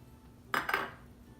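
A utensil knocks against a mixing bowl twice in quick succession while vegan blueberry crumb cake batter is stirred with vanilla, producing short, faint clinks against a quiet background.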